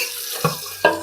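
Tap water runs into a sink as parts are rinsed during restoration work, with two brief splashes breaking into the steady close flow.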